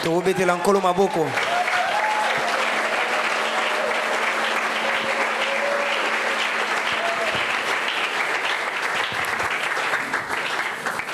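A church congregation applauds and cheers in praise during a worship service, a loud, dense wash of clapping that holds steady throughout after a brief sung or spoken phrase at the start.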